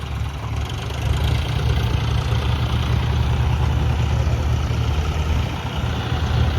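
An Eicher tractor's diesel engine runs at idle as the tractor is moved into position, a loud, close, steady low rumble that rises slightly in the first second and then holds evenly.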